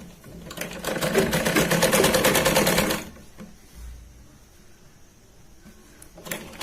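Sewing machine stitching a dress belt cut from a saree, a close, loud rapid needle chatter for about three seconds, then stopping to quiet handling noises and a last click.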